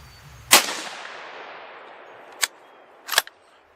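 Three 6.5 Grendel rifle shots firing Hornady Black ammunition outdoors: one sharp crack with a long decaying tail, then two quicker, fainter reports about two and three seconds later, with no talk.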